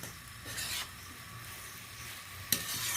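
A spoon stirs thick lentil curry with tomato, onion and yardlong beans in a pan after the lid is lifted, giving soft scraping and a steady faint sizzle, with one sharper scrape near the end.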